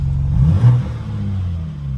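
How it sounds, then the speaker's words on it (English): A BMW M4 with an aftermarket exhaust valve controller set to sport mode gives a short rev that swells then settles into a deep, steady low idle rumble, close and loud. "If I hit the sport mode, now we're gonna have a little bit more burbles."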